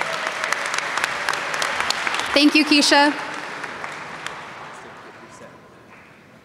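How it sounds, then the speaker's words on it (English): Audience at a mental health initiatives assembly applauds to welcome a speaker. The clapping is steady at first, a short spoken thanks cuts through it, and then it fades out gradually. "Let's clap it up for Stephanie."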